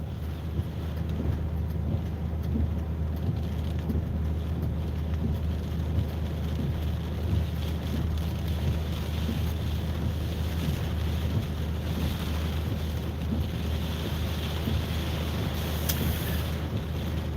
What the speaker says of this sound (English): It's the wind is strong. You can tell how the rain is being tossed about.